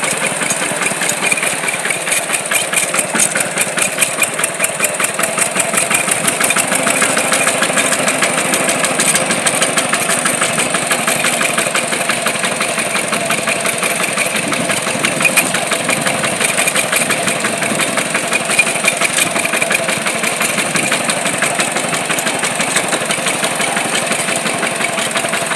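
A tractor engine running steadily at a constant, even chugging throb, loud and continuous with no changes in speed.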